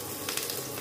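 Chopped garlic fries in a little oil in a pan, a steady close sizzle with a few soft crackles through the brief moment.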